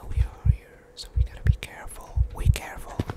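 A slow, steady heartbeat thumps in the horror game Lightlocked, paired low double beats repeating about once a second, close and soft, with whispering over it.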